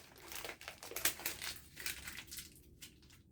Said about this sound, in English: scrunching up some paper